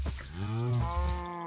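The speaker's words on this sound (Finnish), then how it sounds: "Lehmillä on aika omituinen ääni." A cow in the Minecraft video game gives one drawn-out, low, close moo that rises and falls in pitch, clear and alone with no talk over it.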